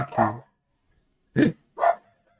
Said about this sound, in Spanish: ¿Tú pues se escucha mi perro, no?